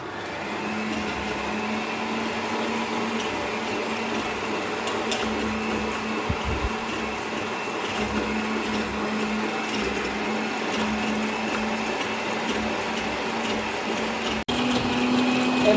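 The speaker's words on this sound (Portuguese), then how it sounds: "Já coloquei aqui os ovos e o açúcar na batedeira e vamos bater até formar uma massa bem branquinha" Electric stand mixer beating eggs and sugar for a birthday cake batter, a continuous even motor whir with a steady hum, close and uninterrupted throughout.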